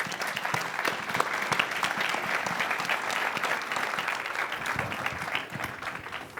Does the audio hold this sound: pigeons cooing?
no